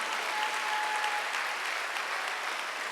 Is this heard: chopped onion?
no